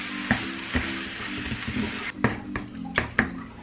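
Eggplant refried beans being stirred in a hot pan, a steady close sizzle broken by sharp scrapes and clacks of a utensil against the pan at irregular intervals, with no talking.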